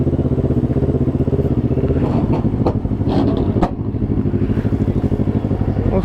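Motorcycles idling and revving at a night car show, a loud, steady, close engine rumble with a few brief clattering peaks.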